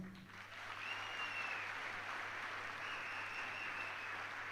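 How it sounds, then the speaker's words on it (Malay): Audience applause at a Malay-language recognition event, a steady wash of clapping from a crowd that swells quickly and holds evenly, moderately distant and fairly faint, with no voices over it. "Satu tepukan gemuruh"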